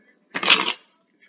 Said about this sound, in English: Let me shuffle again. It did not want to split.